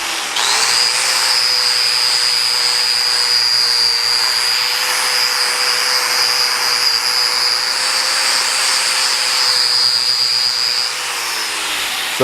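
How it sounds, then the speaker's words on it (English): DeWalt angle grinder cleaning up old metal on a Sidney lathe under restoration: a loud, continuous high-pitched whine that holds steady for about ten seconds, then spins down. "We got my trusty DeWalt angle grinder."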